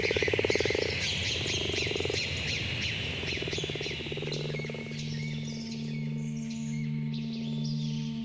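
Frogs calling in a swamp ambience, a dense pulsing chorus of croaks layered with high chirping bird calls, steady and immersive with a low droning hum underneath later on.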